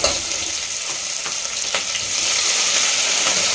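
Chopped onions frying in hot oil for chole masala, a continuous bright sizzle with a few soft stirring clicks, close and steady, growing slightly louder toward the end.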